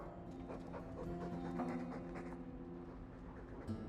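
A dog pants rapidly and steadily in the Dragon Age 2 video game, breathy rhythmic huffs close up over a low background hum.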